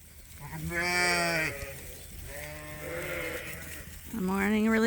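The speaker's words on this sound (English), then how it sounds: "The morning releasing of the ewes." Ewes on a sheep farm bleating loudly as they are let out in the morning, several drawn-out calls one after another, close by.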